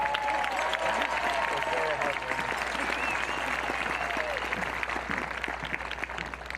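A graduation audience applauds the salutatorian at a 2021 Santa Fe High School ceremony, a sustained, dense wash of clapping from a large crowd with some cheering and a voice over it.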